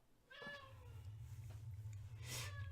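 A pet cat meows near a microphone during a game stream, with drawn-out harmonic cries at the start and again near the end over a steady low hum from the room.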